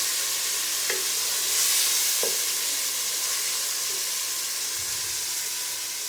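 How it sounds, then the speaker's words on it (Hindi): Finely chopped tomatoes get stirred into haleem in a pot, with a constant close sizzle and steamy hiss and a couple of sharp spoon knocks against the pot. "2 टमाटर डाल देंगे इस तरह से बारीक काट के। एक दफ़ा मिक्स करेंगे।"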